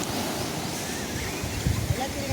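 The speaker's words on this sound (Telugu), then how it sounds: "ఆర్కే బీచ్ యొక్క అలలు, ఆ నురుగు అలలు అద్భుతం." Sea waves break on RK Beach in Vizag, a continuous near surf wash with a few louder surges and faint sounds of people in the background.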